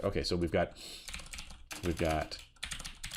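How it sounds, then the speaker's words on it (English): Fingers clatter rapidly on a computer keyboard under a voice as he types code using a linear algebra package, the keystrokes close and intermittent between his words. "let's just jump back into typing this out"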